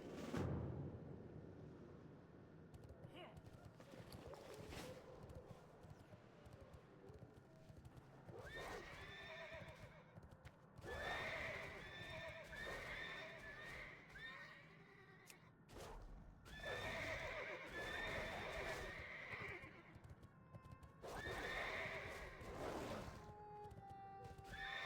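A horse in World of Warcraft: Cataclysm, during the Worgen starting quest, whinnies several times while hooves clip-clop steadily beneath, loud and close, the neighs coming in repeated bursts across the stretch.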